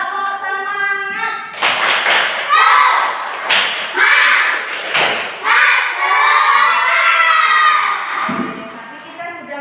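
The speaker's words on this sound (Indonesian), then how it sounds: "Yuk, tepuk semangat." A classroom of children claps a rhythmic tepuk semangat chant during a morning lesson, with loud patterned hand claps and thuds mixed with shouted chanting voices that carry steadily through the whole stretch.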